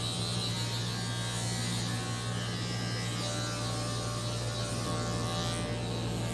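Electric hair clipper trimming a beard against the grain, a steady loud buzzing hum held without a break, close to the microphone, with no voices.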